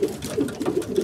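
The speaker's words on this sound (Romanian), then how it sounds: "Sunt la masă de seara porumbeilor, le-am dat să mănânce." Several pigeons coo softly in an aviary during their evening feeding, low repeated coos overlapping in a steady murmur with no speech.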